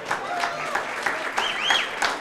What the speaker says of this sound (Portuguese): David Amel, uma grande salva de palmas para